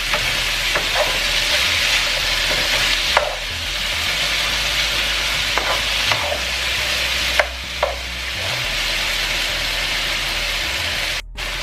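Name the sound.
potatoes frying and being stirred in pan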